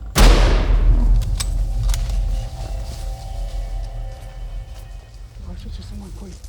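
A single loud rifle shot is fired at a lion in Mozambique's Niassa bush. It cracks sharply at the start, then a heavy rumbling echo slowly fades while faint voices murmur in the background.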